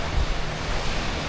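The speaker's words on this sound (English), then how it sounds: "You can see the tide there on the video there, just coming up. It's coming up quite high." Sea waves and a rising tide wash onto the beach at Ao Nang, Krabi, a steady broadband roar of surf mixed with wind buffeting the microphone, continuous and fairly loud with no voices.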